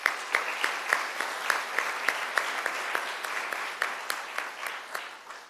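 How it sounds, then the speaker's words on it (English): A small crowd at a city commission swearing-in ceremony claps steadily, individual hand claps standing out in a quick, uneven rhythm over a constant bed of applause that continues at an even level. "So I'd like you all to share a round of applause for our amazing community."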